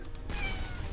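Cat meowing in a video game, a single short meow against background game noise, heard alone.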